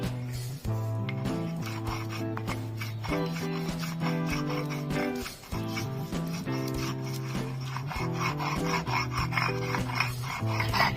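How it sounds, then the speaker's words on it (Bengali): Poppy seeds are ground into paste with a little water by hand, making a continuous rhythmic scraping and rubbing close by. Faint tonal background music plays underneath. "বন্ধুরা, পোস্তটা বেটে নেব। অল্প অল্প জল দেব।"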